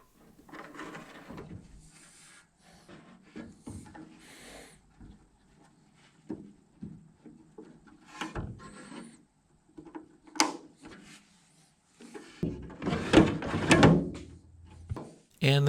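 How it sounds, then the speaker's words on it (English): Metal drawers of a Kennedy tool box are slid onto their guides, giving scattered scraping clunks and clicks with quiet gaps, ending in a louder, longer run of sliding and rattling. "I slide the drawer onto the guides and then pop the spring clip in"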